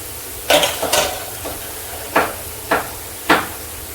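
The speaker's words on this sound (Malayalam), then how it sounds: "ഉപ്പ് ചേർക്കപ്പോഴും ഛൂ എന്ന് പറഞ്ഞ് തിളച്ചുകൊണ്ടിരിക്കുക." Raw jackfruit slices frying in boiling oil for Kerala-style chips, with a little salt water added: five loud scraping stirs against the pan at uneven intervals over a steady low sizzle.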